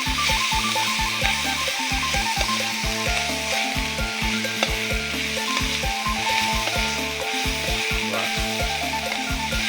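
Field rat stir-fried in a pan with curry paste and mushrooms, a steady close sizzle under repeated rhythmic scraping and stirring strokes of a utensil against the pan.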